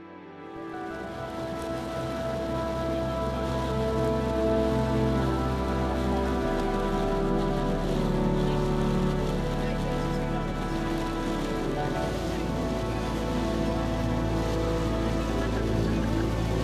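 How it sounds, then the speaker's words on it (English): Heavy rain pours down during an American road trip, a dense, steady hiss of drops that holds at full strength for the whole stretch, close and loud with no voices. "then it started to chuck it down with rain again"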